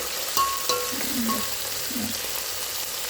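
Curry leaves sizzle and crackle in hot oil in a pan, a steady frying hiss with a few sharp pops and stirring scrapes.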